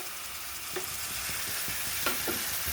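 Dried fish fries in a pan with a constant hiss of hot oil, punctuated by a few light clicks and scrapes of stirring, close and steady with no voices.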